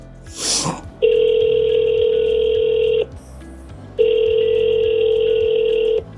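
A phone call rings through a speakerphone as two long, steady electronic ring tones separated by a brief pause, loud and clear over faint background noise.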